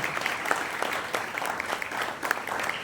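An audience at a religious sermon gives a short burst of steady, dense applause, many hands clapping at once at a moderate distance, with no speech over it.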